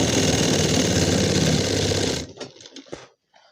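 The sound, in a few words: sewing machine stitching pants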